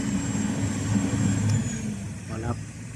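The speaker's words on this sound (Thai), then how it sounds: "โอ้โหเสียงเครื่องยนต์กระหึ่มมากครับ พอตัดรอบลงนี่ เสียงรอบเดินเบาทันหกร้อยห้าสิบรอบนี่ทำงานเลยครับ" A Cat 323GX excavator with a Perkins C4.4 4.4-litre 175 hp engine, working on pond dredging, revs to a steady mid-pitched drone that holds close and constant while people talk over it.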